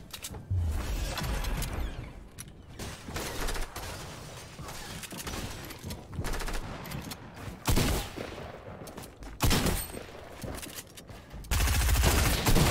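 Rapid bursts of SMG fire in Fortnite, loud and close, with several clustered volleys and brief pauses between them across the stretch.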